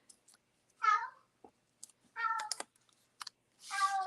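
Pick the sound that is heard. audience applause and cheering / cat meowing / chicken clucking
cat meowing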